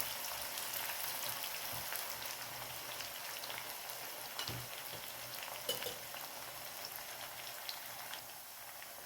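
Jackfruit pieces fry in hot oil toward golden brown, giving a steady crackling sizzle dense with fine pops throughout, with a few louder spatters and stirring knocks near the middle and no voices.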